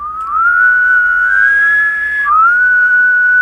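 A person whistles a loud, clear rising-and-falling call imitating a rooster crow, two drawn-out phrases, close and alone.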